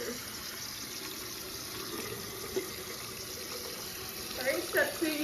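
Warm water running steadily from a sink tap for hand washing, a soft continuous stream with faint splashes near the end.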